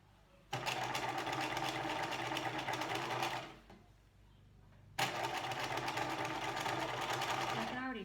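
A sewing machine stitches down bias tape for a seam finish in two fast whirring bursts separated by a short pause, close and even, with a voice talking faintly over it.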